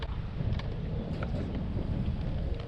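Wind blowing across a lake produces a steady rumbling buffet against the microphone, low and constant for a few seconds, no voices.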